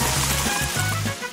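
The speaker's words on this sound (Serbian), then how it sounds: "Sipat ću svu flašu" A whole bottle of Coca-Cola poured into a bowl of ice cream, giving a steady gurgling, sloshing stream of liquid with a brief break midway, close and fairly loud.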